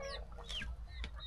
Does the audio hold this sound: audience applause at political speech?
no